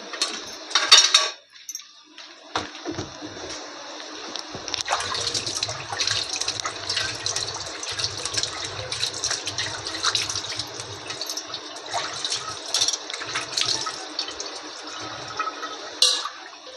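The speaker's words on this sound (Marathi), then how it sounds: "हात धुवून घेते." Running tap water splashes steadily into a sink as hands are washed after handling chopped suran (elephant foot yam) slices, a continuous near wash lasting most of the stretch with brief pauses and shifts in flow.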